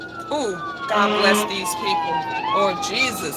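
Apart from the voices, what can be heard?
ambulance and fire truck sirens passing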